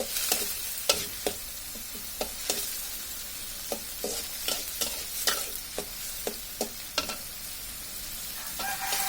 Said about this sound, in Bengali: হালকা একটু ভাজা হয়ে আসছে।